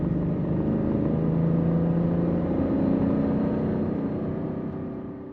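A car towing a two-tonne car-carrier trailer accelerates harder, its engine holding a steady, loud mid-range drone that stays high in the revs before easing slightly at the end; no one speaks.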